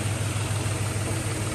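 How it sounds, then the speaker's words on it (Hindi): A tractor pulling a trolley-type 28-disc harrow idles with a steady, loud, low diesel rumble and rattle, continuous and close with no voices. "तू ट्रैक्टर नू इधर तू मूंह ले आ"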